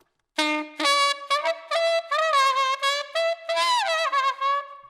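Saxophone squeaks from shifting tongue position in altissimo practice, a run of short bright tones that jump up and down in pitch, separated by brief gaps, played alone and close.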